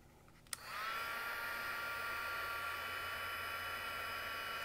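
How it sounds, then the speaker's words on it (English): A heat tool for heat embossing switches on with a click and settles into a steady, close blowing whir that runs on alone without talk. "I'm just going to get my tweezer and then heat emboss this."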